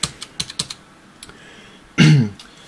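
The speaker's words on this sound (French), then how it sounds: "le clavier mécanique, ça fait du bruit" Mechanical keyboard with clicky blue switches, a Rii K61c, typed in a short burst of sharp, close clicks over the first second, then quiet before one loud, brief noisy burst near the end.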